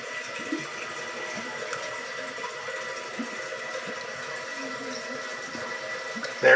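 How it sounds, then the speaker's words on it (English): An American Standard Luxor vent-away toilet flushes with a steady, moderately loud rush of water that runs evenly throughout, close by, ending in a brief sharper splash. "Let's do a flush."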